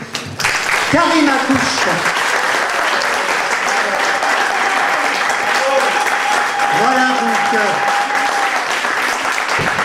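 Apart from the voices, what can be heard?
audience applause after book excerpt reading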